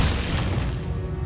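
Confringo spell blast in Hogwarts Legacy, a loud booming burst at the start that rolls off into a dull rumble over about a second, heard alone without talk.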